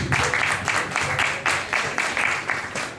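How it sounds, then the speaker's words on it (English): An open mic audience applauds, with loud, dense clapping from a crowd that holds a steady, slightly rhythmic pulse throughout. "Another round of applause."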